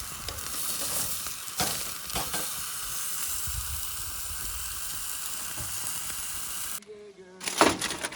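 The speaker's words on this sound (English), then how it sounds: "giving the steak one more little sear here" A steak sears on high heat at a campsite, with a strong steady sizzle and hiss and a few clanks, then the sound cuts out near the end before a brief louder clatter.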